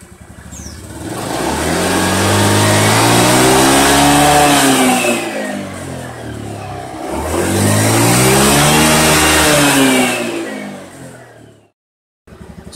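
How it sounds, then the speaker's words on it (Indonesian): A Honda BEAT FI scooter engine revved close up in two long throttle blips, each rising to a loud roar, holding and then falling back to idle before cutting out briefly near the end. "Kita coba geber."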